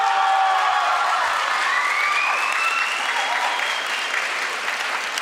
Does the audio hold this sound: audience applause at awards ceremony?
yes